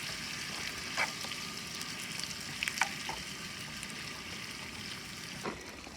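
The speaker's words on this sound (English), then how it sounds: "And just mix it up and you cook it down until it gets really nice and thick and sticky." A thick sauce cooks down in a pan with a steady, soft sizzle and occasional bubbling pops and stirring sounds, heard up close with no talking, during an outdoor breakfast of garlic rice, fried eggs and hotdogs at Joshua Tree.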